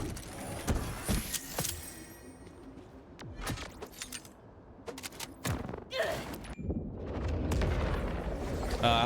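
Spread launcher firing in Borderlands 4, with repeated sharp blasts and bursts scattered across the stretch amid busy game sounds and effects.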